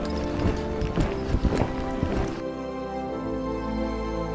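Horse hooves loping at an easy gait during a young horse's training, a steady rhythmic clip-clop of repeated hoofbeats close by, stronger early and settling into a quieter steady pattern.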